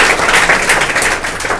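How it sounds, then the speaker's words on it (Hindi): An audience at a science coaching session gives loud applause for Ojha sir, a brief, close burst of dense clapping. "और ओझा सर के नाम पे एक जोरदार ताली बजा"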